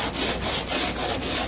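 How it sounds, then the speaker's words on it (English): Sanding a fiberglass grow bed by hand, about five steady back-and-forth rasping strokes in an even rhythm, close and clear with no talk. "First thing I'll do is give it a sand."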